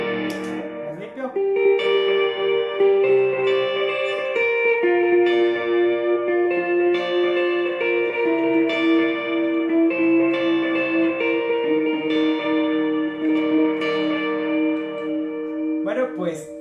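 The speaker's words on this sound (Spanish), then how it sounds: "Pero así suena mi pedalboard actualmente" A worship guitarist's pedalboard rings out sustained, chiming chords drenched in reverb and echo, with shimmering delayed repeats layering over each other at steady volume for several seconds.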